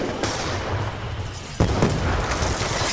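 A concussion grenade goes off in Call of Duty on the Nuketown 2025 map during a Demolition match, a sudden loud boom midway through a steady rumble of gunfire and battle noise.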